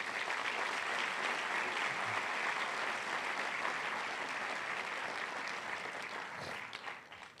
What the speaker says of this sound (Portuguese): Um aplauso ao Senhor Jesus por isso